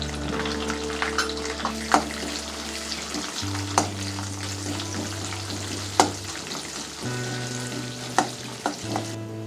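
Chana dal and urad dal frying in hot oil for a Telugu kanda bachali kura tempering, giving a soft steady sizzle with periodic sharp spoon clicks and a low hum underneath, no talking.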